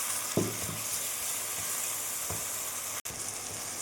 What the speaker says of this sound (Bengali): টমেটোটা ফ্রাই করব যতক্ষণ না তার কাঁচা গন্ধটা চলে যায়